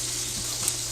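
Salmon skin sizzles in a pan over high heat, a close, dense, steady crackling hiss throughout the short moment.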